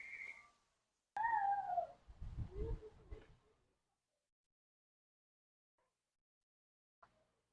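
A cat meows nearby, giving a couple of drawn-out, rising and falling calls, followed by a low murmur and then near silence.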